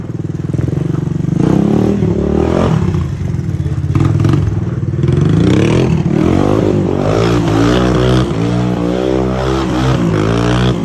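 A Honda ATC 200es ATV engine runs loudly nearby after a service, a steady rattling idle with rising and falling revs throughout.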